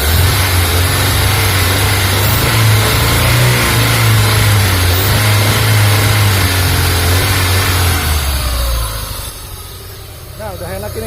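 Honda Civic Genio engine, freshly assembled, running with a steady low rumble close by and evening out under throttle, then dropping to a quieter idle near the end; voices talk over it.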